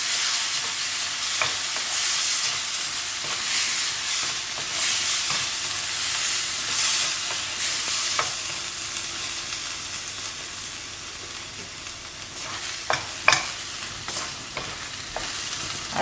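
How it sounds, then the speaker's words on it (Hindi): Masala sizzles in a pan for prawn-stuffed bitter gourd while a spoon stirs it, producing a constant close frying hiss broken by scraping strokes and a few sharper clacks toward the end. "मसाला न्हू मातसो बरो फ्राय करूया आमी"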